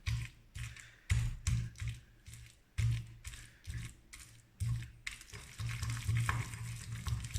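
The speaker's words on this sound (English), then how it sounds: "And we want to start crushing them in that oil." Fresh basil leaves crushed in olive oil with a mortar and pestle for pesto alla Genovese, a series of close, quiet grinding and tapping strokes in irregular bursts, then a steadier stretch of grinding, with no talking.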